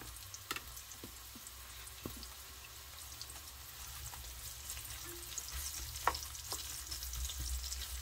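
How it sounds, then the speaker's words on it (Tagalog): Onions fry in a pan for a sautéed vegetable dish, a soft, continuous sizzle with occasional clicks and taps of a utensil, fairly faint and steady throughout. "Ito na po yung sibuyas. Nilalagay ko na po."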